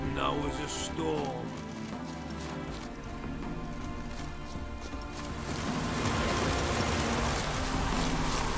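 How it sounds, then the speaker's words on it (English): Rain in The Witcher 3: Wild Hunt patters under music and scattered voices, growing into a heavier, steady downpour hiss in the second half. "No use doing any work in this rain."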